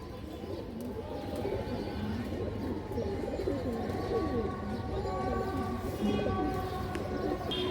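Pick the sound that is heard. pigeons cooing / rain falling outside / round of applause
pigeons cooing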